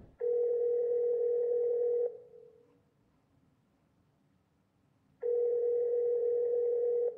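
A steady telephone dial tone from a speakerphone call in the video game Kentucky Route Zero, sounding loud for about two seconds, cutting to near silence, then returning just as loud.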